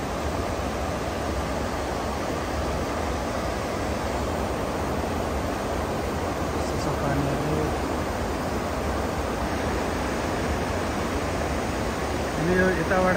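High river water rushes past a canal intake in a dense, continuous roar that stays loud and even throughout, with no pauses or distinct splashes.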